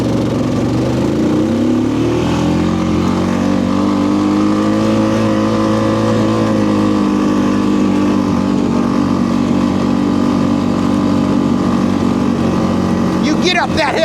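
Vehicle engine pulling up a hill in second gear on an Alaskan beach, a steady droning rumble that rises in pitch early on and holds under strain, with people talking over it.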